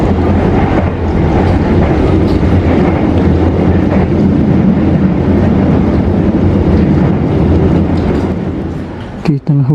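Heavy rain falls on and around the Tegal Bahari train in Indonesia, a dense continuous hiss mixed with the train's rumble and wind noise, with an abrupt rustle at the end.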